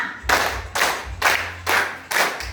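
Pupils clapping together in a classroom clap-pattern game, five distinct loud bursts of claps in a steady rhythm, close and unaccompanied by voices.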